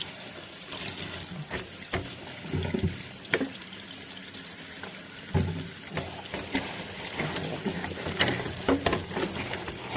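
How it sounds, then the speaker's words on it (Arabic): A plastic kitchen part being scrubbed with a sponge, soap and hot running water, with a steady faucet stream, splashing, and occasional sharper knocks and clatters as the piece is handled. "مية سخنة بليفة بقى تانية وبالصابون عادي بقى، نغسل زي ما بنغسل اي حاجة بلاستيك بقى عندنا"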